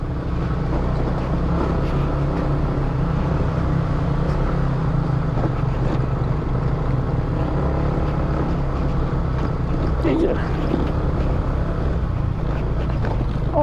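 A motorcycle engine drones steadily and loudly up close while riding a rough, bumpy road toward a waterfall near Bogor, with a brief spoken word at one point.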